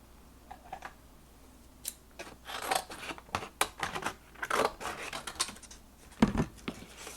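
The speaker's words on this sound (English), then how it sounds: "So I'm going to cut myself a piece of paper here." Scissors snip through a sheet of craft paper up close in a quiet room, a run of short crisp cuts and rustles building in density, with no talking.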